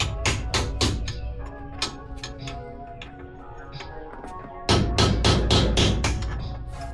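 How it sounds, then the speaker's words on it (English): Metal-on-metal hammer strikes ring out as axle bearing races are driven out with a small extension, a rapid irregular series of close clanks with a short pause before a louder second burst. "So I'm gonna take this little extension and just kind of hammer them out."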